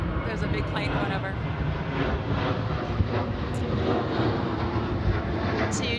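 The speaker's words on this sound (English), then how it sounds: "there's a big plane going over" A large airplane passes overhead, its broad, steady roar filling the whole stretch with an even, unbroken rumble that neither rises nor fades noticeably.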